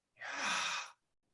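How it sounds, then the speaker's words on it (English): A single breath recorded inside the bronchial tubes, one soft airy rush lasting under a second, close and alone, then silence. "a video that allows us to hear our breathing pattern inside our bronchial tubes"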